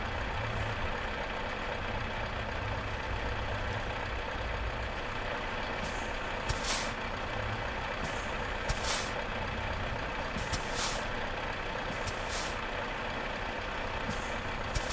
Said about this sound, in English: Trailer brake.